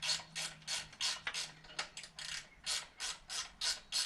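A ratchet turns a bolt on a motorcycle engine guard being fitted to a 2018 Harley-Davidson Sport Glide softail, a close, quiet series of rhythmic clicking strokes, about a dozen short bursts in even succession.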